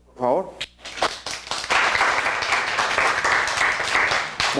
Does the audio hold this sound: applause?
yes